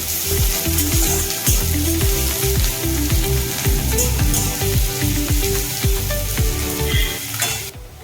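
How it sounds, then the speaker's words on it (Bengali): Chopped onions fry in a wok over a steady loud sizzle, with repeated scraping stirs at an even rhythm running through the whole stretch. "পেঁয়াজ কুচিগুলো ভালোভাবে একটু ভেজে নেব"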